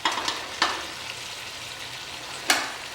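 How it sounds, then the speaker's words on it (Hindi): Kadaknath chicken curry frying in masala in an uncovered pan gives a soft, steady sizzle, broken by a few sharp scraping stirs; quiet and close, with no talk. "खोल के भून रहे हैं हम इसको"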